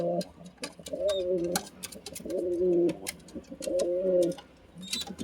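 A male and female pair of pigeons coos nearby in three rolling, throaty bouts, with short pauses between them and light clicks and rustles throughout.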